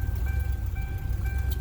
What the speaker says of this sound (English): Got an extremely rough idle.